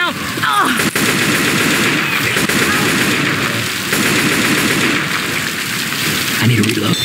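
Stormy wind and rain in the Left 4 Dead 2 video game, a dense constant roar with steady rapid gunfire rattling through it, loud and unbroken, with brief voices underneath.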